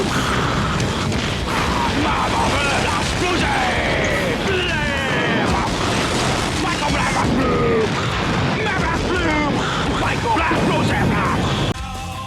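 Dense, loud destruction in the Split Second racing game: booming explosions, crashing debris and crumbling structures layered into one continuous roar, with scattered bursts and crunches over the full stretch.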